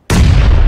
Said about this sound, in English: The grenade goes in. I hear the grenade land.